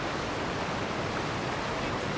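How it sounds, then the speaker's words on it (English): Loud, steady rushing water from the Genshin Impact video game fills the whole stretch as an even, broadband roar without pauses or talk. "Man, the water is just loud."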